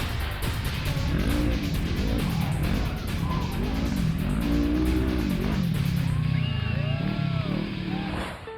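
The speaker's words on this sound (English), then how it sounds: "Both he and Guthrie race to the finish line." Off-road race vehicles at King of the Hammers race toward the finish line, engines revving and rising and falling loudly, with tire noise and a crowd or voices in the background.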